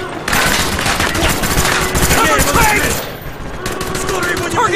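Call of Duty: Black Ops game gunfire: dense, loud, continuous automatic weapon bursts fill the clip, with a brief dip near the end and shouted voices mixed underneath.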